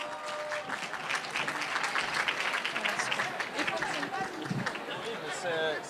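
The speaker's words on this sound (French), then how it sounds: "Een warm applaus voor Abdeslam Menza." Sustained applause from an audience, steady dense clapping that fills the whole stretch, with some crowd noise mixed in.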